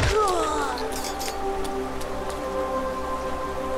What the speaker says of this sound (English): Beeb, look, it's raining